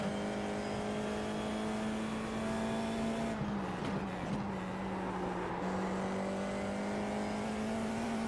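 Steady high-revving race car engine in a racing video game, held at a sustained drone with a brief dip and shift midway, close and continuous throughout.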